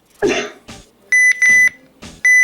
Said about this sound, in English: the button beeps on the RadioShack 12-259 Beige Edition